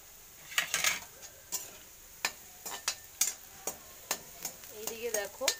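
Cashews and raisins frying in a pan, a light steady sizzle punctuated by repeated sharp scraping clicks of a spoon stirring against the metal, close and fairly loud.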